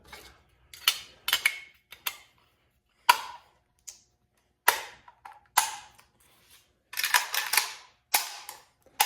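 A Zastava ZPAP M70 rifle being reassembled: sharp metallic clicks, snaps and scraping of parts fitting together, in irregular bursts separated by short silences, close and fairly quiet with no talking.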